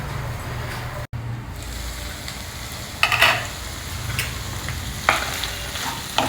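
Vegetables are tossed and fried in a pan with a constant sizzling hiss, a brief dropout, then several loud scraping tosses of the spatula.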